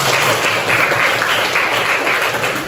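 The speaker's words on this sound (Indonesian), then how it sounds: "Oke, beri aplaus untuk temannya." A classroom of students claps for a classmate, giving steady, dense applause that stays loud and close for a few seconds without letting up.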